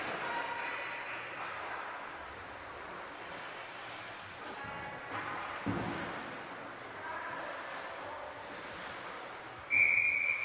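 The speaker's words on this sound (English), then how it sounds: "Smothered and a whistle stopping play." A referee's whistle blows near the end of a stretch of arena crowd noise at a U19 hockey game in Stoney Creek, a sharp high tone rising briefly above the murmur after a save.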